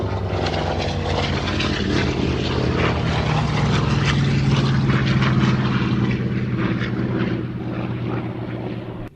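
A Fury propeller aircraft lands at an airshow, its engine drone loud and steady throughout with a rich low tone that holds until the very end.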